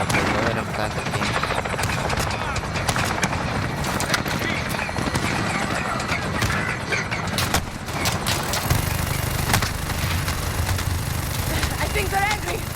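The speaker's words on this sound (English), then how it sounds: "let's take the helicopter" A helicopter in the Call of Duty: Modern Warfare co-op game, its rotor and engine droning loudly alongside gunfire and game effects, with players talking over it.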